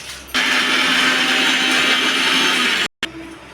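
A kitchen mixer grinder (mixie) coarsely grinds chutney ingredients before ridge gourd is added for beerakai pachadi, a steady loud whirring motor roar running about two and a half seconds, then cutting off abruptly with a brief restart.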